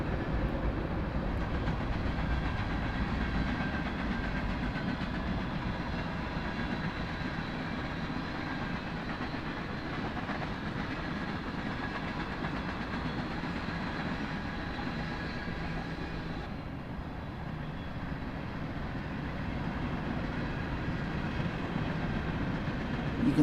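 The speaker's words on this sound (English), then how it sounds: "two engines climbing the track on the east side of I-15, just going out of picture now" Freight train pulled by two engines climbing the grade at Cajon Pass beside I-15, a steady distant rumble of locomotives and rolling cars with faint rail clatter that holds even throughout, heard alone with no voices.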